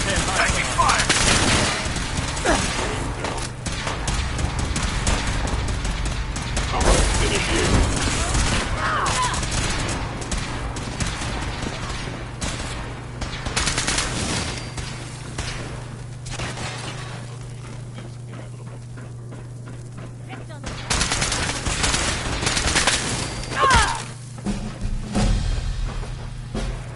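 Heavy gunfire in Fallout 4 with rapid bursts and scattered shots, some glassy breaking sounds, loud and persistent, with occasional voices amid the fighting.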